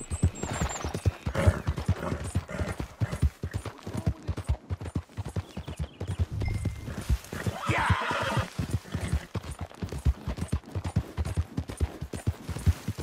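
A spooked horse in Red Dead Redemption 2 neighs loudly and repeatedly while hooves clip-clop in a quick, busy rhythm, close and prominent throughout, with game ambience beneath.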